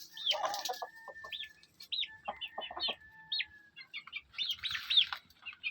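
Black Australorp chickens cluck and call nearby in short, repeated bursts, with overlapping chirps and bird calls and no talking.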